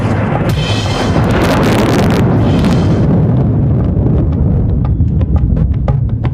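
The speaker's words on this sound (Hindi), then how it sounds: "छाई घटाएं घोर तो बादल गरज पड़े।" Deep, sustained rumble of thunder from storm clouds, loud and rolling with a dense low-end roar that swells early and then slowly fades, no voices present.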